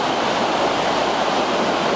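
Rushing water pours steadily through a muddy ravine, or quebrada, near a bridge in Chilete, a loud, continuous broadband roar close to the microphone with no voices over it.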